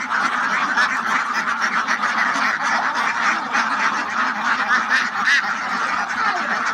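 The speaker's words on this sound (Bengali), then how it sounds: "এগুলো সব ডিমের হাঁস" Indian white runner ducks kept for egg laying fill the air with a dense, continuous chorus of honking and quacking, many birds calling at once at close range with no pauses.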